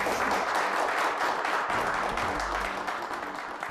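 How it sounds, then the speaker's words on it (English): Audience applause at a school event, a dense, steady wash of clapping that fades slightly toward the end. "Can we give those people a round of applause?"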